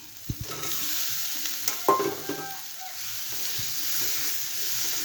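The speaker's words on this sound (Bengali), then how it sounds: "এখন আমি ডিম আর আলুটা দিয়ে দেব।" Eggs and potatoes sizzling in a hot pan with a steady frying hiss, a few sharp knocks and scrapes of a spoon as they are stirred, close and moderately loud, no talk.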